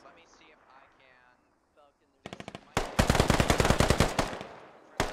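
Gunfire in a tactical squad video game, loud, rapid automatic bursts close by, following a stretch of quiet talk and muffled radio chatter, with a sustained volley of sharp shots in the second half.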